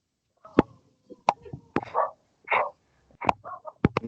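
A dog barks in sharp, scattered bursts during an online class, with about half a dozen loud yaps and a few softer whimpering yips over four seconds, and no talk.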